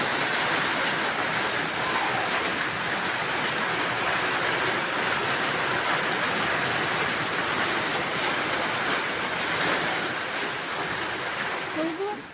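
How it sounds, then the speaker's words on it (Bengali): Dense, steady hiss of heavy rain pouring continuously, a loud broadband wash with no breaks. "দেখো কত জোরে বৃষ্টি হচ্ছে"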